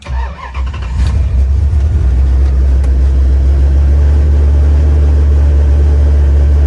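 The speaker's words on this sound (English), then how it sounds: "Starts, high idles, comes down." A turbocharged Jeep Grand Cherokee 5.9 V8, running on pump 92 gas and reported to have knocking rods, cranks briefly and starts, then holds a loud, deep, steady high idle up close with no talk.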